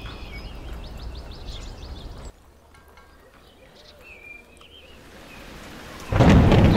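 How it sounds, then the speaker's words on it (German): Thunderstorm in the village-building game Villagers: a steady wash of rain with birdsong over it, then a drop to quieter rainfall before a loud, close rumble of thunder swells up at the end. "So, Gewitter."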